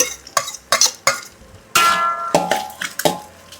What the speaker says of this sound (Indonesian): Tinggal tumis sampai harum.